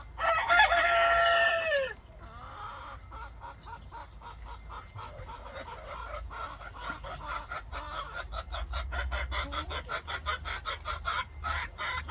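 A rooster crows loudly once at the start in a chicken coop in the morning, followed by softer clucking and rustling farmyard sounds with faint bird chatter.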